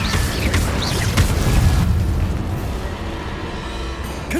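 An Incendio fire spell cast in the Hogwarts Legacy video game: a loud booming fiery burst that swells, then settles into a rumbling crackle and a hissing roar, with no voices.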